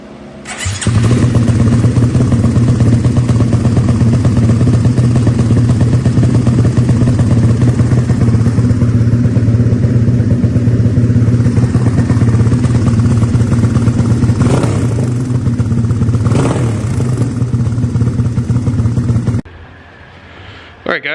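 A 2020 Honda Grom motorcycle fitted with FuelTech FT450 engine management idles and revs loudly and close by, spitting and popping throughout a long continuous run before cutting off near the end.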